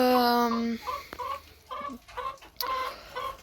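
A black-headed hen in a farmyard on a cold day, a short drawn-out call followed by a run of rhythmic close clucks, clear and fairly loud.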